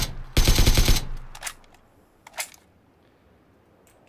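Automatic rifle fire in PlayerUnknown's Battlegrounds: a loud, rapid burst of shots lasting about half a second, followed by a few scattered sharper impacts and quiet pauses, with no talking.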